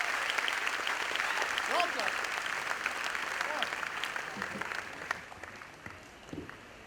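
An audience at an award felicitation function applauds and cheers for a top-ranked exam achiever, a sustained, moderately distant wash of clapping with scattered voices and shouts mixed in, thinning toward the end.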